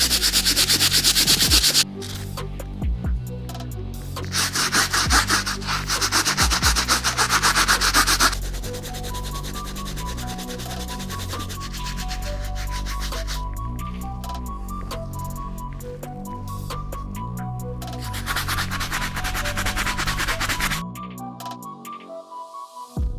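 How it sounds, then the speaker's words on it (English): Brass bristle brush scrubbing grime off the sole of a 2006 Jordan 5 sneaker: loud, close, continuous rhythmic rasping strokes with brief pauses, going on for over twenty seconds. "we'll move on to using the brass bristle."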